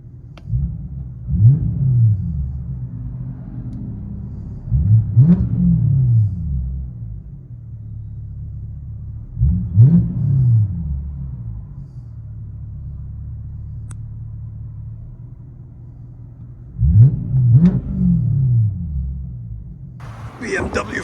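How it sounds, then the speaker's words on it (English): A 2008 BMW 550i with a 4.8L V8, true dual exhaust, X pipe, straight pipes and quad tips, heard from inside the car, gives a deep booming drone that swells in four or five loud revving surges between quieter idling stretches. "BMW 550, true dual, fully straight piped, with Natami quad tips out the back."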